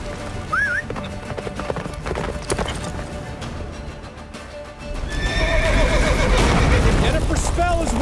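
A horse gallops with clip-clop hoofbeats and neighs in The Witcher 3, joined by loud game ambience and voices; the sound swells into a dense, roaring mix partway through.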